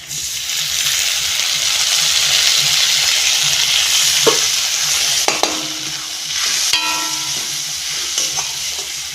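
A wet spice paste of chili, turmeric and cumin powder with water sizzles and bubbles steadily in a hot pan, with a few scraping stirs and clinks of a utensil partway through.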